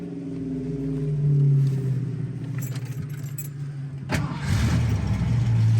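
Keys jangle before a 1973 Mustang convertible's engine cranks and catches with a sudden burst, then settles into a close, steady rumbling idle.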